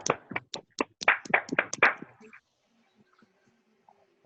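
A classroom group claps briefly for a student at the end of a microteaching lesson, about a dozen sharp, uneven claps over two seconds, then near silence.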